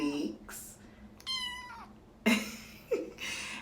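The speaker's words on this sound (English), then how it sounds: "we ended up getting a kitten." An eight-week-old kitten gives a short, clear meow indoors, set among scattered louder household noises and brief bursts of other sound.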